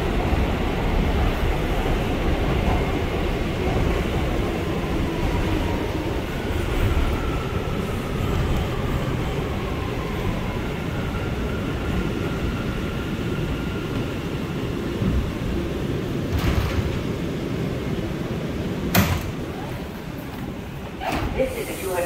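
An A express train on the New York City subway rolls through 181st Street station, a steady loud rumble with rail hiss and squeal lasting throughout, with brief sharper clanks near the end.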